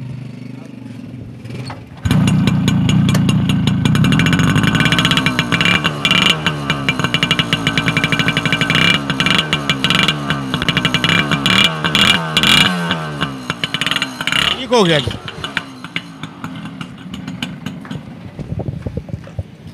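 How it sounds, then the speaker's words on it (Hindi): A used two-stroke motorcycle engine at a bike dealer is kicked into life and runs with a buzzy, rattling idle and several revs, loud and close, with brief speech over it near the end. "इसको स्टार्ट तो करें हम भी, ज़रा इसका क्लासिक सा साउंड सुने।"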